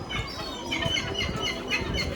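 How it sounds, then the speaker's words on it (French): Seagulls calling over an outdoor seafood market, a steady chatter of overlapping high bird cries carried on a busy open-air background. "Ils doivent constamment surveiller que leurs poissons ne soient pas volés par les mouettes."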